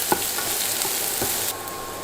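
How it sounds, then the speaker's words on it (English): Ginger and garlic sizzle steadily in a tablespoon or two of hot oil in a pot, with a few sharp spoon scrapes and clinks against the pot as they are stirred, close and alone without talk. "Stir fry a few seconds."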